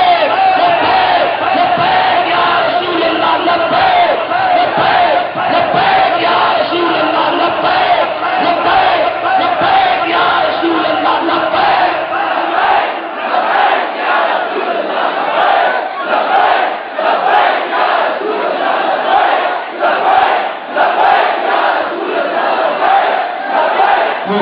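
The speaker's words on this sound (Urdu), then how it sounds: "سارے ایک دفعہ یہ نعرہ لگائے" Large crowd at a Labbaik Ya Rasool Allah religious conference in Oghi, shouting slogans together in a loud, sustained, echoing roar that carries on without a break.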